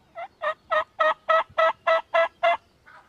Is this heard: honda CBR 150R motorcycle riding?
no